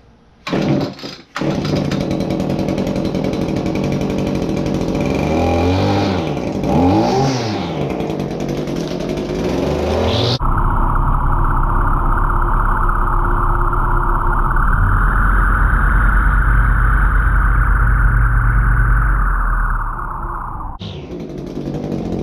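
An Echo 2620 chainsaw pull-started on choke: one quick cord yank, then the small two-stroke engine catches and runs loud and close, revving unevenly before settling into a steady, buzzy high idle for about ten seconds.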